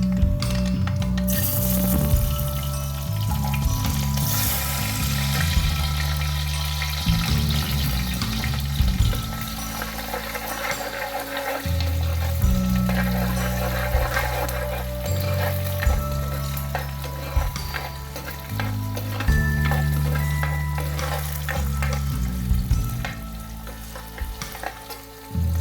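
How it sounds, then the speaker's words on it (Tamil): Small onions dropped into hot oil with popped mustard seeds for a country crab dish crackle and sizzle loudly and continuously, with stirring throughout and a low hum underneath. "கடுகு பொரிஞ்சதும் கட் பண்ணி வச்சிருக்க சின்ன வெங்காயம் போட்டுக்கலாம்"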